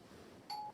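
Two quick electronic doorbell chimes from a video game, bright tones after a brief quiet stretch, the second ring following closely on the first.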